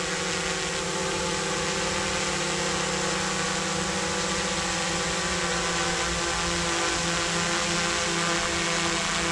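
A small drone hovering and spinning in place during a test flight gives off a steady, loud, continuous motor whine with a broad rushing buzz that holds at a constant level throughout.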